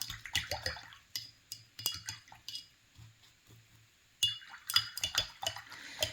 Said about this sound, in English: Now I'm cleaning off my brush in my dirty water.